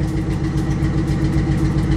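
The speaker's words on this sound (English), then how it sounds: "So I can definitely hear an exhaust leak." A Ford Lightning truck engine idles steadily with a deep, rumbling low end and a rhythmic puffing tick from an exhaust leak, close and continuous.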